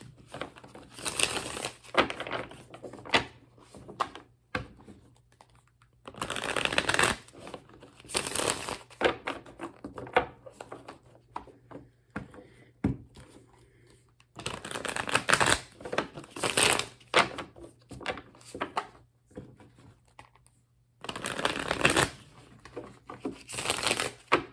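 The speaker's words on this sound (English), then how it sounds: "All right, so let's start shuffling." Tarot cards are shuffled in repeated bursts of crisp riffling and rustling, close up, separated by short quiet pauses.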